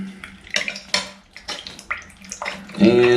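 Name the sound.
shower water draining after unclogging with hair snake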